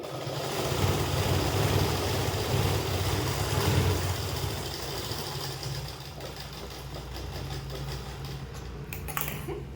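A sewing machine runs steadily, stitching elastic onto a kali plazo, with a continuous close mechanical whir and a brief clatter near the end.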